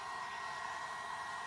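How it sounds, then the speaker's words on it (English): Steady, continuous whoosh of a hair blow dryer heating vinyl graphics on a number plate, a close, even airflow hum with no talk. "If you don't have a heat gun, use a blow dryer."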